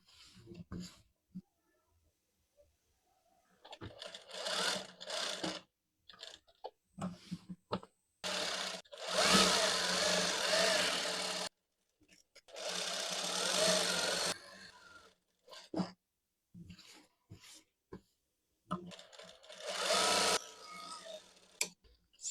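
A sewing machine stitches the hem of a kameez in short runs of rapid mechanical chatter. The runs are separated by pauses and quiet handling noises, and a voice speaks now and then in between.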